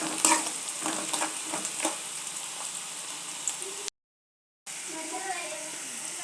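Girmit masala, Hubballi style, sizzles softly in a pan while a spatula stirs it with scattered scraping clicks. The sound drops out briefly, then the frying continues.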